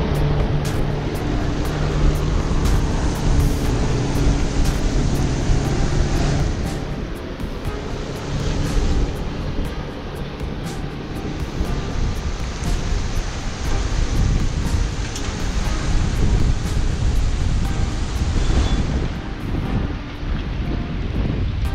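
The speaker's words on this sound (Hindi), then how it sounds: "बहुत प्यारी हवा चल रही है इस वक्त यहाँ पर" Wind blows steadily through the Sharda valley in Azad Kashmir, a loud, continuous rushing roar with gusty swells and no voices over it.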